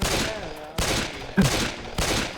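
Gunfire from the Left 4 Dead video game, four sharp broadband bursts spaced about every 0.6 seconds, each a loud crack with a short decaying tail. The shots are close and no talk is heard.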